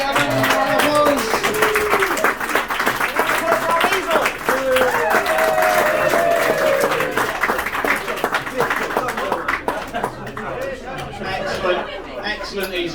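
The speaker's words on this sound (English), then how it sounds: "Ladies and gentlemen, round of applause." A full house at a fringe improv comedy show applauds after a scene, with loud sustained clapping mixed with whoops, laughter and chatter, easing toward the end.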